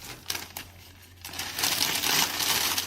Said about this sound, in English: take one page at a time, crumple it up